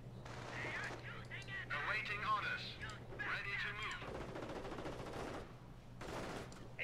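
Machine gun fire rattles in the Tales of Heroes video game, bursts of rapid shots over a low steady hum, with stretches of dense firing and short pauses.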